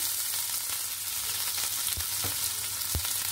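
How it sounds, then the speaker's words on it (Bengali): Chopped onion and garlic fry in hot oil in a frying pan, a dense close sizzle with a few sharp spatters and stirring knocks. "তেলটা আমার গরম হয়ে গেছে। এখন আমি দিব পেঁয়াজ কুচি, রসুন কুচি।"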